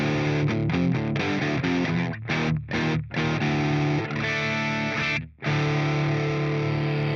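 Electric guitar played through an Orange British Rock 50 amp model in BIAS FX on an iPad Pro, loud distorted chords ringing out with a few brief choked gaps between strums, no talking.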